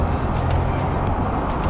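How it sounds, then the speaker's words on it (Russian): A Porsche 911 drives by near a traffic light, a loud, continuous engine and road roar close by that fills the whole moment without talking. "Оп, Porsche едет"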